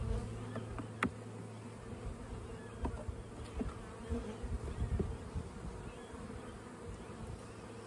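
Honeybees drone steadily from an opened hive during a brood inspection, a dense, continuous buzz close by with occasional louder passes of single bees near the ear and no talking.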